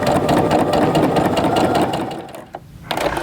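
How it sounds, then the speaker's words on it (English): A sewing machine runs a continuous quarter-inch seam through a zip top bag, its rapid, even needle chatter steady and close before slowing and stopping with a brief mechanical clunk and a short restart. "when I continue on sewing, I'm gonna be able to sew my 1/4 inch stitch"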